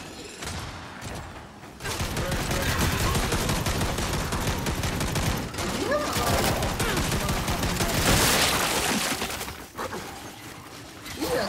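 Sustained, loud rapid-fire minigun bursts in the video game Gears 5, a dense continuous roar of gunfire with brief dips, heard close and without speech.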